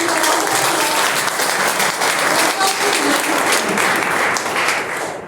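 An audience at an international symposium on physical literacy applauds a panelist with loud, sustained clapping that fills the room evenly and fades slightly at the end.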